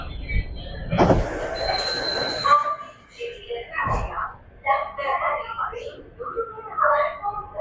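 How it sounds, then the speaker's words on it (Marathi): An underground Mumbai Metro Line 3 (Aqua Line) train runs with a steady low rumble and a faint high whine, while voices talk over it throughout. "ही मुंबई मेट्रो लाईन 3 आहे, एक्वा लाईन आहे"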